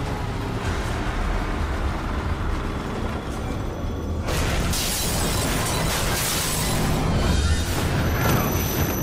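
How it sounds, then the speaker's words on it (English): Loud, continuous explosion and destruction noise from a train being wrecked in the horror video game The Evil Within, dense rumbling boom with crashing bursts swelling around the middle and staying heavy throughout. "I think it's about to destroy the train."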